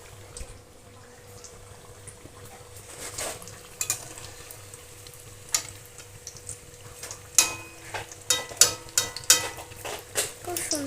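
Food fries in a pan in a home kitchen, a soft steady sizzle broken by sharp clinks and scrapes of a utensil stirring, growing busier toward the end, with occasional quiet speech.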